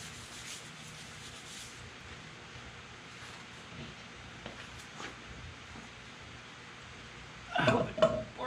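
A hand scraper shaving high spots on a metal arbor support, heard as faint scattered scraping strokes over a quiet background, ending in a short louder cluster of rasping scrapes.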